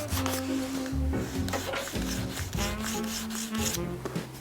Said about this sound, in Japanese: 一回サンドペーパーで落としてもう一回塗ります。